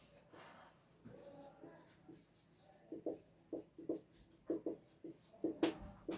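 Someone writes a definition on a classroom board with faint, scratchy strokes. They start sparse, then become a quicker, irregular run of short scrapes in a quiet room.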